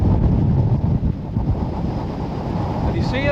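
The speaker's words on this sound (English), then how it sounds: "It is really windy today." Strong wind buffets the microphone on a sandy beach at Druridge Bay, Northumberland, whipping up sand like a sandstorm; a loud, continuous roar of gusts dominates throughout, easing only slightly midway.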